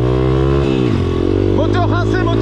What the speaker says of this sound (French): Mon cross est rincé les gars.